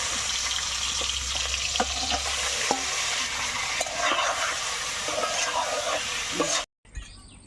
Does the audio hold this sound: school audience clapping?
no